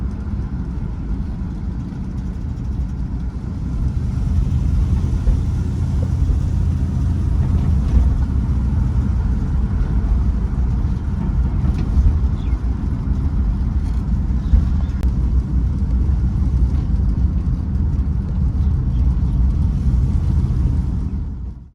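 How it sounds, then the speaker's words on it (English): A 1970 ZC Ford Fairlane with a V8 engine and a rebuilt carburettor driving along, giving a continuous low engine rumble that swells after a few seconds and holds steady, heard from inside or close by. "She's driving. Driving really good with the Carby rebuilt."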